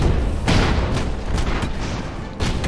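Flak guns firing from an enemy airship in the strategy game Airships: Conquer the Skies, a loud continuous roar punctuated by several heavy booming shots, dense and close with no voices.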